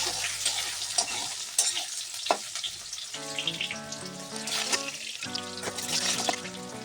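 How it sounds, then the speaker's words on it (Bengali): Steady sizzling of lightly salted potatoes frying in a pan, with occasional stirring scrapes and a faint musical background tone. "সামান্য পরিমাণে লবণ দিয়ে আলুগুলোকে ভেজে নিচ্ছি"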